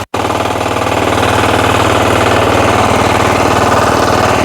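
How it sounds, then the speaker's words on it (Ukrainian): A Motor Sich walk-behind tractor engine runs loud and close, a steady rapid chugging throb that holds without pause after a brief opening gap. "Збавлю оберти. Гарний мотоблок."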